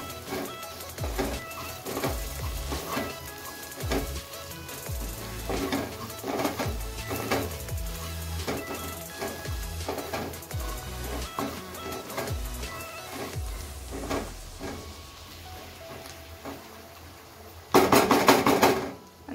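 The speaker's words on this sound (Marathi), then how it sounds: "आता आपण हे सगळं ढवळून घेऊया." A jackfruit vegetable curry with masala, salt and cumin powder is stirred in a pot, giving repeated close metallic scrapes and clinks in an irregular rhythm, and a louder burst of clatter comes near the end.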